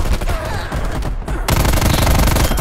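Close, loud, rapid automatic gunfire from the game Black Ops Cold War, in dense continuous bursts with a brief pause before a heavier stretch of shots.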